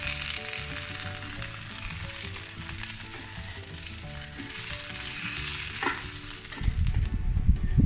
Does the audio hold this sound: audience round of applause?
no